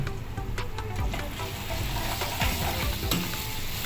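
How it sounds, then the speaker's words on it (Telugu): Paneer and cashews fry with a loud, continuous sizzle in a pan, a utensil stirring and scraping through them close up. "జీడిపప్పు వేస్తాము పన్నీర్ వేసేసాము చూసారు కదా"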